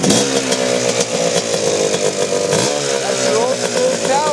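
A Kawasaki Tecate two-stroke engine runs loud and close, holding a steady, buzzy idle before revving up and down, with a brief dip partway through.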